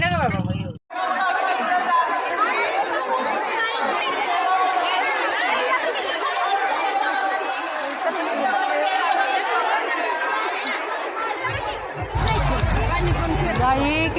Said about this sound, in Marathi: बघाल तिकडे सगळीकडे बायकाच बायका आहे कोणाचा नाश्ता करायचा चालू आहे कोणाच्या गप्पा चालू आहे